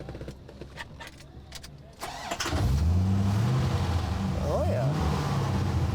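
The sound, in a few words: classic car engine running and revving, 385 horsepower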